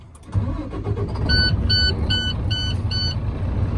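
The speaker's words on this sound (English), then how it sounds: "I'm gonna push and start, safe start." A vehicle with push-button start, such as a truck, starts and settles into a steady idle rumble close by, while a repeating electronic chime beeps several times over the engine.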